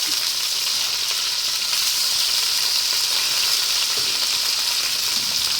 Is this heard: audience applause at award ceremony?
no